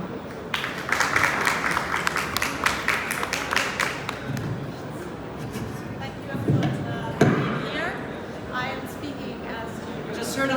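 Applause from an audience at the Kind + Jugend baby products trade fair in Cologne welcomes the CEO of Dr. Albani Ltd to the stage, a moderately loud clatter of claps mixed with voices and a few thuds.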